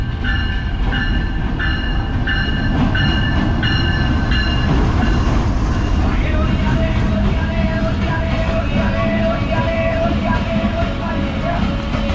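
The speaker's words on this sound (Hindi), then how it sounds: "तो ये तेज़गाम एक्सप्रेस भी आगे बिल्कुल अल्लामा इकबाल एक्सप्रेस के पीछे पीछे।" Tezgam Express rolls past at Bahawalpur railway station, a loud continuous rumble of wheels and cars with rhythmic clatter and a bright ringing tone early on, steady and close throughout.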